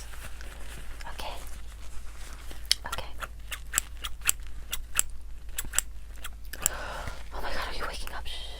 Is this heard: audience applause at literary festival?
no